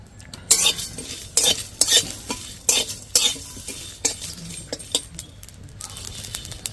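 Spices such as chilli, ginger and garlic dry-roasting in a kadai, stirred with a metal spoon that gives repeated sharp scraping clinks against the pan over a low sizzle.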